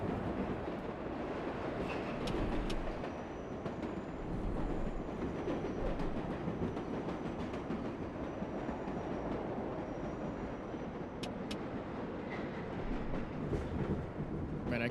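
A New York City 7 line subway train in the World of Subways 4 game rumbles steadily along the track, a dense continuous roar with faint high squeals and clicks from the wheels.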